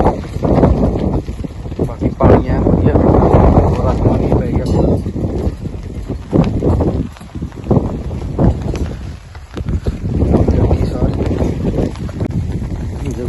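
Strong wind gusting across a wheat field after heavy rain, a loud continuous roar with buffeting surges on the microphone throughout.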